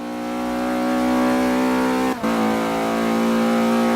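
A 2013 Mazda Andretti Autosport USF2000 race car in Forza 5 holds a loud, steady high-revving engine note, with a brief cut around a gear shift before the revs pick straight back up, alone without talk.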